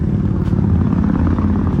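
A loud, steady motorcycle engine drone close by, rumbling low and constant throughout with no pauses, near a river in the ghost town of Fairbank, Arizona.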